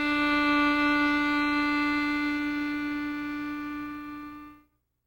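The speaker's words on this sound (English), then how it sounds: "You draw air into the harmonica" Sustained harmonica draw chord, air pulled through the reeds, holding steady and loud for about four and a half seconds before stopping abruptly.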